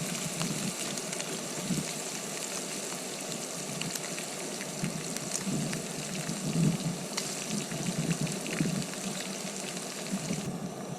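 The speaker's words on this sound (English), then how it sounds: "I'm gonna sprinkle this stuff on both sides, fry up the fish" Seasoned fish frying skin-side in a pan on a camp stove beside a reservoir, with a steady soft crackle and sizzle carrying on for several seconds and scattered pops, fairly quiet and with no voices.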